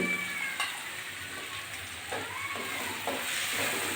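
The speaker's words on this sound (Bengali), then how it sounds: "আমি কয়েক টুকরো কাঁচা লঙ্কা ধুয়ে ভালো করে রেখেছিলাম দিয়ে দিচ্ছি" Washed green chillies dropped into hot oil for a vegetarian bottle gourd ghonto, giving a steady close sizzle and frying hiss with faint stirring scrapes throughout.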